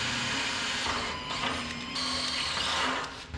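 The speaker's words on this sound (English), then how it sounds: "Drilling those out to 7/16." A drill bit bores holes out to 7/16 inch in a shop, a dense whirring grind that holds steady and shifts in pitch slightly as it cuts, loud and close with no talking.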